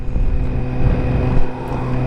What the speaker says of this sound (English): I'll be interested to see if the engine noise comes through here